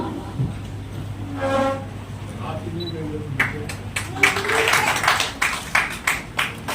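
Applause breaks out at a Hindi-language national award and honour ceremony, rising from scattered claps into steady clapping that builds toward the end, following a stretch of talk and background music.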